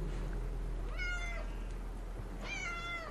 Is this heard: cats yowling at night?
yes